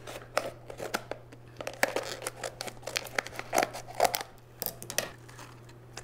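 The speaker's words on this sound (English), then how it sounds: "I'm just gonna do it with scissors and try not to cut any of the leaves" Scissors snip and crinkle through plastic packaging around a Java fern aquarium plant, heard as scattered close, quiet cuts and rustles.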